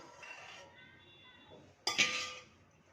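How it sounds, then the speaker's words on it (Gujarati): Milk is stirred in a metal pot while heating, with soft scraping followed by a sharp clink of a utensil against the pot near the end. "દૂધને હલાવીશું"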